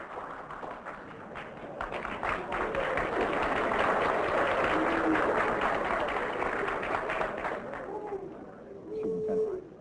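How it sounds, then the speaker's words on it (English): Audience applause during a televised political debate on church and state featuring Senator Kennedy, a dense sustained wash of clapping across the hall, steady and fairly loud throughout with a brief swell near the end. "let's cut out the applause"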